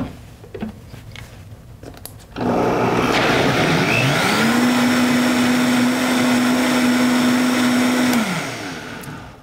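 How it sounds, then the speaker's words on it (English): A kitchen blender mixing dark chocolate ice cream ingredients, whirring up from low to a higher speed, loud and close, with a rising motor whine that holds steady and then winds down at the end. "I started the blender on low and then slowly raised it to a higher setting."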